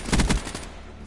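A close, punchy burst of shotgun blasts in a Call of Duty match, a few rapid booming shots within a second, then a short fading tail.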